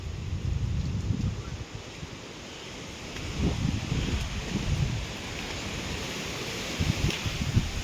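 Strong wind blows outdoors in gusts, a rough low rushing noise buffeting the microphone and swelling and fading over several seconds.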